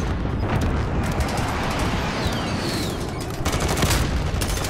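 Dense, continuous gunfire during a video game squad fight, many overlapping shots and distant booms forming a steady roar, with no talk.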